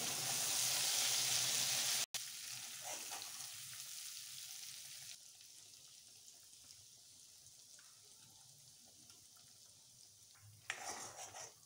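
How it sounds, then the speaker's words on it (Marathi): Masala paste of chili powder and onion-garlic masala frying in oil in a pan, a loud burst of sizzle at first, then a quieter crackle with scraping stirs and a clink near the end. "चांगलं मिक्स करून घेऊ आणि चांगलं फ्राय करून घेऊ याला"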